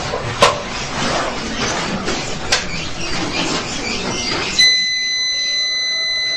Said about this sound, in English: What happens when you put lighting plus the refrigerator and others? What happens? It sounds an alarm.